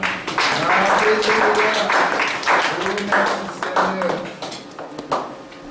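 A church congregation breaks into clapping and acclaim for the Lord, with a steady burst of hand claps mixed with voices and cries, fairly close and loud, tapering off toward the end.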